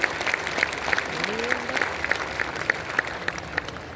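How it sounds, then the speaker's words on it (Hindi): An audience at an Arya Samaj ceremony at Bharat Mandapam claps to welcome a guest, with sustained applause carrying steady, rhythmic claps and a voice briefly heard over it. "तालियों द्वारा उसका अभिनंदन"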